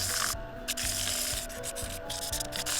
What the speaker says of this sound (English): right now I'm just giving it a sand up